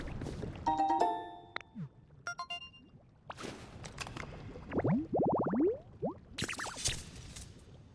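Lava bubbling in the video game Pokémon Pokopia: soft, irregular gloopy pops and rising bubbly burbles that swell in the middle of the stretch, mixed with game chimes and effects, moderately loud with no talking.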